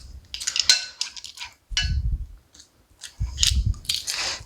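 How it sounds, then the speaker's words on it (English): Four small garlic cloves crushed in a hand-held garlic press, heard as crunchy, squishing bursts with metallic clicks of the press, in three separate pressings with short pauses between, close and fairly loud. "And this is our garlic press."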